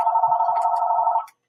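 A telephone rings with a single sustained electronic trill of about a second, close and loud, then cuts off abruptly.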